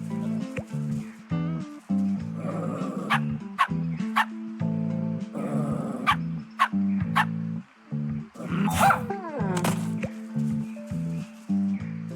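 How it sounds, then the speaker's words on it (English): Repeated dog barks from a video game, loud and close, sounding against steady game music with a few sharp bursts. "Oh, another dog."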